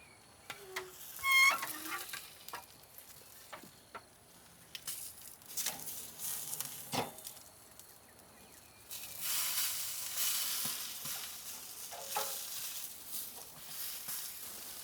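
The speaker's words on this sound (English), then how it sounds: "Alright, time to flip the burgers to the other side." Burgers for mushroom Swiss sandwiches sizzle on a grill and get flipped, with a soft steady crackle, a few sharp scraping spatula taps, and the sizzle swelling louder in the second half.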